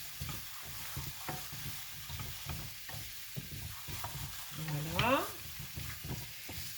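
Penne and potimarron pumpkin sautéing in a pan, with a steady soft frying hiss and repeated scraping stirs, plus one louder scrape near the end; a single brief spoken word.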